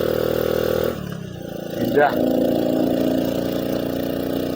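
Old, worn motorcycle climbing a steep mountain road toward Mount Bromo, its engine droning steadily and close, briefly dipping before revving back up, with a rider speaking over it.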